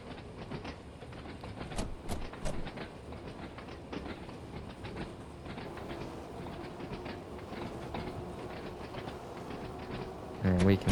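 Train running on rails in the Train Sim World 2 game on an Isle of Wight seaside line, a steady rumbling roll with scattered clicks and rattles throughout, plus a louder bump near the end.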